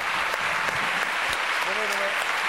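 Studio audience applauding during a French TV variety show, dense steady clapping throughout with a voice calling out briefly partway through.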